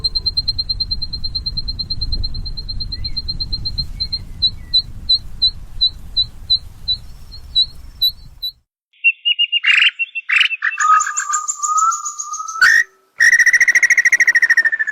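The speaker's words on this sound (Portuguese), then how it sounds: "a sua vocalização é muito difícil de ser percebida, pois é similar aos sons de grilos" A small bird sings a high, thin run of rapid, evenly spaced pulses much like a cricket's chirp, later breaking into brighter whistled and buzzy notes, alone and fairly close.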